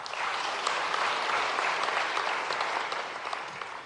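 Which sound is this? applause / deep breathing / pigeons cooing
applause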